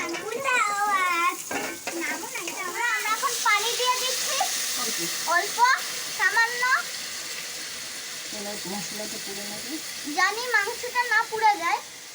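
Chopped onion and garlic hit hot oil with whole spices in a pan, sizzling and crackling steadily while someone talks over the cooking.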